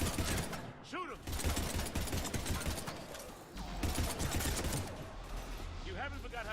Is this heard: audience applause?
no